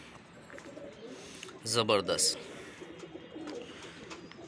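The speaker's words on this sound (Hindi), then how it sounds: "बेहतरीन कबूतर थे, टैडी गोल्डन माशाल्लाह" Golden teddy pigeons coo on a rooftop, a soft burst of throaty cooing rising briefly amid quieter ambient noise, with a voice speaking over the scene.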